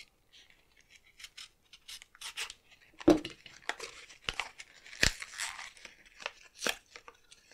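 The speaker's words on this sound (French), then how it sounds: "Je vais le sortir de son emballage d'abord." Oil sticks come out of their plastic and cardboard packaging with close, quiet crinkling, tearing and snapping sounds in short irregular bursts, separated by pauses.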